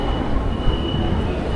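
A subway train in China pulls away at night, a steady close rumble of rolling wagons with a faint thin whine riding above it, brief and continuous.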